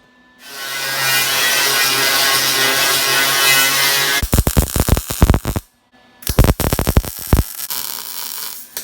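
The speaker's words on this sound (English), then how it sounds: "Now we just got to weld that bow all the way across." A steel bow is welded across a homemade targa top. A steady hiss comes first, then two bursts of loud, crackling, sputtering welding noise with a short pause between them.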